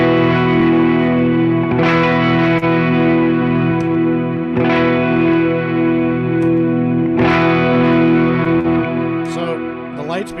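A clean electric guitar tone through an amp, shaped by a Walrus Audio ACS1 amp simulator, rings out in sustained chords restruck about every three seconds, loud and close, with a brief pick scrape at the end.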